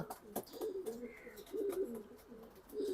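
Racing pigeons coo softly inside a cage, repeated low throaty rolling calls close by and faint, with small rustles between them.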